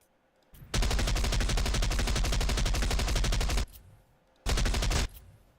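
Loud, sustained automatic gunfire in a shooter video game, a dense rapid burst of about three seconds, a pause, then a second shorter burst, with no talking.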